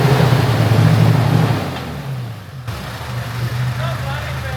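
An old 4x4's engine labours with a low, rumbling drone as it crosses a freezing river. The drone is loud at first, then eases and carries on more steadily, with water noise mixed in.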